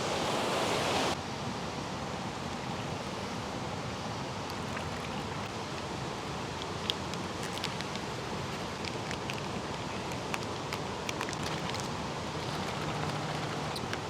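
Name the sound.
flowing river water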